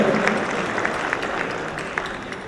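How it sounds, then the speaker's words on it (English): A crowd at an agri-business investment forum in Jamaica gives a steady, sustained round of applause, dense and even throughout with no single claps standing out. "the team here deserves a big, rousing round of applause"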